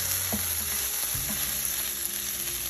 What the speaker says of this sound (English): When I hear this patty start to sizzle, I'm gonna know that it's ready to go.